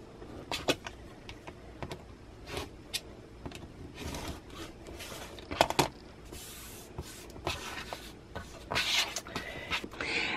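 Rotary cutter slicing quilt fabric into 12.5 by 2.5 strips, with a series of quiet, sharp cutting strokes and soft shuffling of fabric and ruler at irregular intervals, faint and close.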